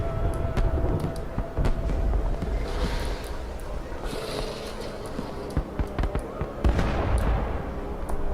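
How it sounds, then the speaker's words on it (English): Video game explosions burst repeatedly in a dense, chaotic battle, sharp booms and crackles piling over a constant rumbling background, loud and close with no pauses. "Explosions are everywhere."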